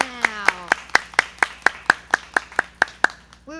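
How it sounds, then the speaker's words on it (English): Steady rhythmic clapping from an audience honoring sixth graders at a school moving-up ceremony, about fourteen crisp claps in an even beat, fairly close, with a voice briefly at the start. "Let's give a great round of applause for all of our sixth graders now."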